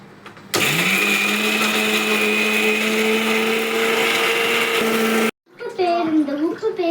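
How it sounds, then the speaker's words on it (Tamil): A mixer grinder whirs loudly and steadily while grinding coriander chutney, then cuts off abruptly, after which a person briefly speaks. "இப்போ நம்ம அரைக்க போகிறோம்."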